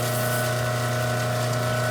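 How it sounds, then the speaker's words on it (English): Continuous running water on a lapidary polishing wheel grinding lapis lazuli, with a steady hum from the motor underneath, a constant unbroken wash of sound at close range. "Get some water going. Yeah, water's going. Listen to gurgle"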